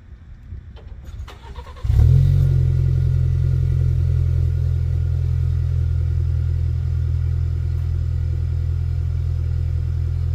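A 2022 Ford Maverick pickup engine starts with a sudden surge, then settles into a steady, mellow low idle that holds close and loud, with faint background noise from someone power washing nearby.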